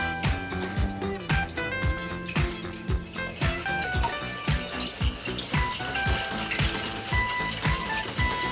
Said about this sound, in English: Okay, the eggs are broken, but now we have to stir them with this